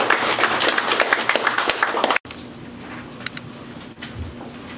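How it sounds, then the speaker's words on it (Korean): Applause from an audience at a Korean clan association meeting, dense clapping for about two seconds that cuts off abruptly, followed by quiet room tone with a few faint taps. "여러분 박수로 환영해 주시기 바랍니다"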